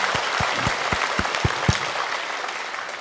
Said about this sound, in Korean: 우리 하나님께 은혜의 감사의 박수를 드리겠습니다